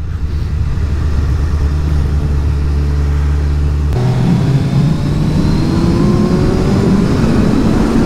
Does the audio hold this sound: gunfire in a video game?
no